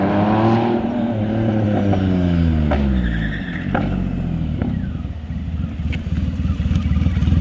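A Triumph Rocket touring motorcycle with 150 hp and a hard rear tire revving hard as it accelerates and the rear wheel breaks loose. The engine note rises and falls through several loud, close pulls, with no talk.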